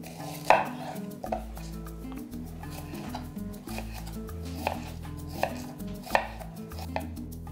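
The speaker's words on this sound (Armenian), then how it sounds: "Եվ կտրատում ենք, ունեմ փոքրիկ սոխուկներ, 2 փոքր գլուխ սոխ" Small onions being sliced into wedges with a knife on a cutting board, producing a run of crisp, close chops at an uneven pace.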